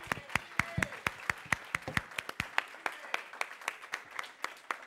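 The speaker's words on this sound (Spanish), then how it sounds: "Vamos a darle un fuerte aplauso al Señor." Church congregation applauding at a bilingual Spanish-English service, a steady run of sharp, fairly even claps from a small group close by, with voices underneath.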